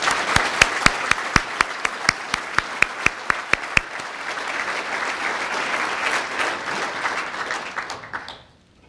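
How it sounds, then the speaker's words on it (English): Audience at a school-readiness charity breakfast gives a round of applause, opening with sharp isolated claps that swell into dense, steady clapping and then fade out. "Please give these folks a round of applause."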